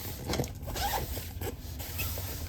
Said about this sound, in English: Unzip.